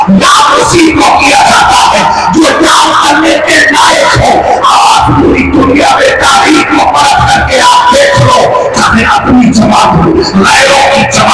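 A large crowd at a religious gathering roars a chanted response to the Naara-e-Takbeer slogan, loud massed voices yelling in repeated rhythmic bursts that fill the space.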